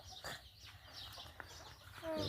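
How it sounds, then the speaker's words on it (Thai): Young chicks in a backyard fruit garden make faint, scattered peeps and clucks at moderate distance, with a brief thin chirp near the end against outdoor background noise. "ลูกไก่ ลูกไก่หน่อยนะคะลูกไก่หน่อย"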